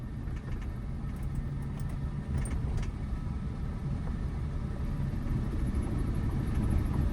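A learner's car slows at a roundabout under braking with the clutch half pressed, giving a steady low engine and road rumble that stays fairly loud and constant throughout, with no talk.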